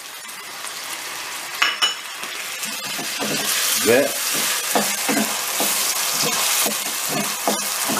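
Diced tomatoes being sautéed in a pan while being stirred, with a steady sizzle and frying crackle under scraping and occasional clinks of a utensil, close and moderately loud; a voice briefly speaks.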